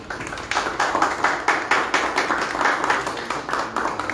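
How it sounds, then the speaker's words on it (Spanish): Applause at a press conference for the XIII Maratón Cricol 2023: a modest group of people clapping in quick, pulsing bursts, moderately loud and close, with no speech over it. "Fuerte el aplauso, por favor"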